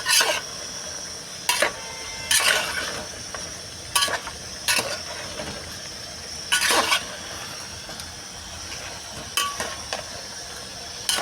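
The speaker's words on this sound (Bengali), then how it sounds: "এখন একটু মাংসটাকে নেড়ে ছেড়ে নিব।" Beef cooking in a pot is stirred with a utensil, making about a dozen sharp scraping clanks and knocks against the pot at irregular intervals. A faint sizzle runs underneath, close and otherwise quiet.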